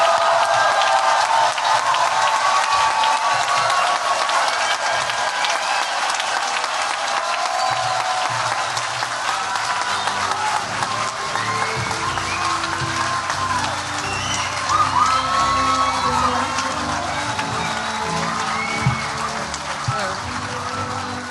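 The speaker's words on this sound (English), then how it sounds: "How about one more big round of applause for all the graduates of the Mather class of 2026" Sustained crowd applause and cheering for graduates at a Mather House diploma ceremony, a dense steady wash of clapping lasting throughout with faint voices mixed in.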